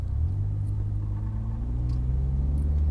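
A Nissan 240SX with an automatic transmission drives nearby, giving a steady low engine rumble and road drone with no clear revving or gear changes.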